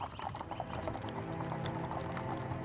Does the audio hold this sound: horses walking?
yes